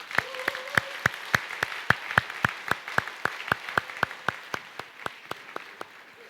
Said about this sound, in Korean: 박수로 한번 맞아주세요.